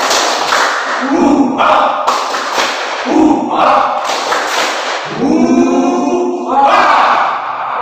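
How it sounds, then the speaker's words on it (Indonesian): A classroom of students performs a rhythmic spirit clap, bursts of synchronized clapping with short shouted chants in a patterned sequence, loud and near. "ayo kita speaking dulu. Tepuk semangat ya."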